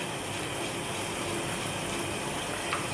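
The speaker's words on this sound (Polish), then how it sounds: "podsmażone mięso podlejemy wodą i będziemy dusić 20 minut" Water poured onto fried minced meat in a pan for lasagne. It makes a continuous gushing, hissing wash that holds steady for the whole stretch, with no talk.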